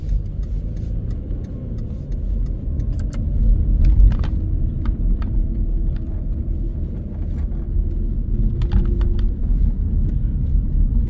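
A car driving along a city street in Paterson, heard from inside as a steady low engine rumble and road noise, with faint clicks and ticks over the drone and no talking.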